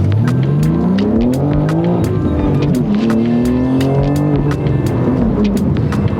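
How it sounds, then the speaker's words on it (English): A BMW G80 M3 with its S58 engine revs hard and loud up close, the pitch climbing and falling through repeated sweeps, with sharp crackles and pops scattered over the steady roar. "the S58 engine that is in this car is probably the best M engine ever made to date"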